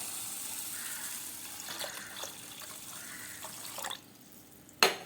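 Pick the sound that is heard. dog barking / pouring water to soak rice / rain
pouring water to soak rice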